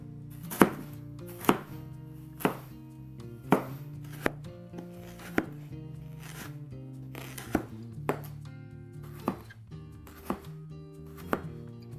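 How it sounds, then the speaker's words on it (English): Carrots being chopped with a knife on a cutting board, a steady series of crisp, close thuds spaced about a second apart, alone without talk. "just chop a tiny bit off so you have a flat surface so you can rest it on that area"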